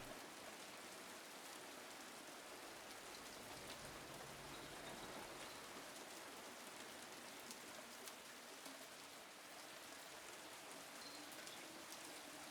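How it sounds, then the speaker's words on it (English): Steady rainstorm on the roof of Brookhaven in the Silent Hill 2 Remake. Soft, even hiss of rain and patter of drops continues unbroken and quiet, with no voices. "that rain sound, that ambient storm sound to fall asleep to"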